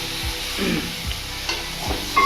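Bay leaves sizzling softly in hot oil for green mango chutney, with a few sharp metallic clinks of a utensil against the pan.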